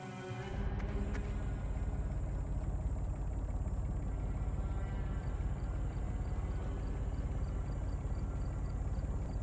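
A steady mechanical engine drone in the Secret Files 3 adventure game, a constant low hum with faint rhythmic ticking and no voices.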